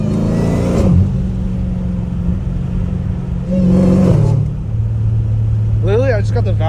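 A catless Dodge Challenger Hellcat Redeye with its exhaust valves closed rumbles low and close, swelling in two short revs over a steady idle, with a whine rising near the end.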